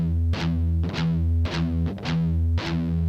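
A pedal-tone riff on a distorted electric guitar: chugging palm-muted low notes with slides on the fifth string, loud and rhythmic, repeating in short phrases without any talking.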